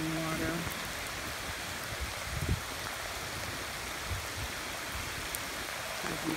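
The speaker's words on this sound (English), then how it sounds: "the rain is not letting up" Heavy rain pours over a flooded street in southern Louisiana, with a dense, constant hiss of water and splashing, plus faint bumps and occasional distant voices underneath.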